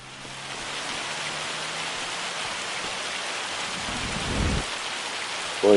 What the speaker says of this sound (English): Boy, it's really dumping rain.